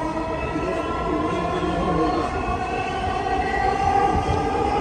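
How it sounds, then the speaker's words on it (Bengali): Metro rail train pulling out of a station on an elevated urban line, a continuous loud rolling rumble with a steady electric whine, heard from inside throughout, with no spoken voice. "মেট্রোলটি এখন কাঁচিপাড়ার উদ্দেশ্যে রওনা দিল"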